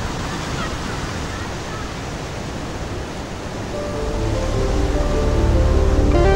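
Ocean surf breaking along a coast where fishermen ride the waves at dawn; a steady broadband wash of water and wind that swells louder toward the end, with a faint tonal layer of music underneath.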